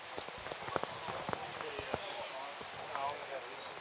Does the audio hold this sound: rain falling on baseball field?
yes